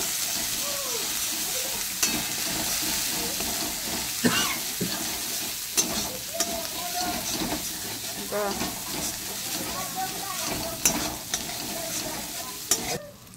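Ginger and green chili fry in a pan with five-spice seeds, a steady close sizzle broken by scraping stirs and light clinks of a spatula, with a voice talking over it at times.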